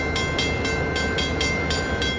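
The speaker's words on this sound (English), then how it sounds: "711 slowly rolls into Port Chicago for a crew change behind a pair of former SP FP7s now owned by Amtrak" A passenger train headed by a pair of former Southern Pacific FP7 diesel locomotives rolls slowly into Port Chicago, a steady loud rumble with rhythmic bursts of wheel and car noise repeating about every half second throughout.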